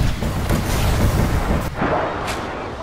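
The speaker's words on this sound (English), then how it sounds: "We're about to get grenaded." A grenade explodes in the Apex Legends video game amid dense, roaring battle noise, with two heavy booms close together near the end.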